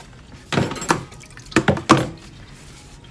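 Water splashes and thunks as cleaned catfish is rinsed in a tray, a few distinct wet bursts with quiet pauses between, close and fairly soft.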